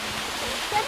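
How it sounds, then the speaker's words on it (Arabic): Water from a mountain spring pours down as a waterfall, a broad, steady rushing roar heard close and loud for a brief moment, with faint voices mixed in. "شلال تنهمر مياهه نابعة من مياه سواق قادمة من ينبوع منبثق بالجبال خلفه"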